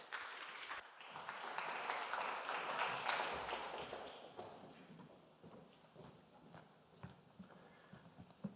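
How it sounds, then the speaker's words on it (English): A conference audience in Riga applauds, a dense crackle of many hands clapping from a hall that swells, holds for several seconds, then thins to scattered claps; fairly faint and distant. "Please, applause."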